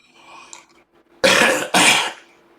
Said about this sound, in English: right now I'm coughing again because it's actually releasing even more mucus from the system